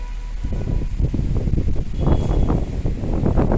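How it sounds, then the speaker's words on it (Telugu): Strong wind gusting past a building corridor during a heavy rainstorm, a steady low roar that swells and buffets the microphone throughout, loud and close, with no voices. "బాగా అంటే బాగా గాలి వచ్చేస్తుంది"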